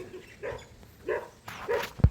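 A pet dog at a farmhouse gives several short, separate barks and yips in an uneven rhythm, close by and moderately loud, ending in a sharp thump.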